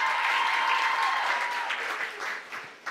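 Applause from an audience at a regional oratory contest as a student is introduced, a soft continuous wash of many hands at some distance that fades out toward the end.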